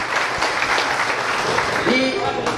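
Audience applause at a political speech, with a steady, dense wash of clapping from a large crowd and a voice heard faintly over it near the end.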